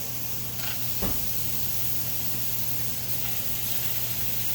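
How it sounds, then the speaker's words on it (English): Steady hissing sizzle of hamburger patties frying in a hot skillet, continuous and close, with a brief clatter partway through. "Y'all hear that sizzle?"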